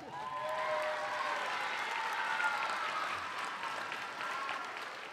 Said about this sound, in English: how about we give a round of applause to all of our former principals